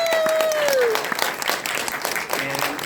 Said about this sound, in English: Big round of applause for a very special guest.